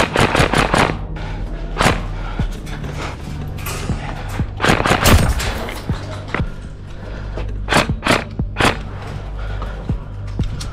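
Rapid bursts of airsoft gunfire crackle during an outdoor skirmish game, sharp snapping shots coming in short volleys and single pops, some close and loud, others farther off, with steady background noise between them.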